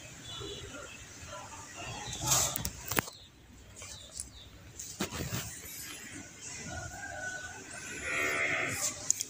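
Cattle at a farm in Bến Tre, Vietnam, moo several times in irregular bursts at moderate distance, with birds and someone talking in between.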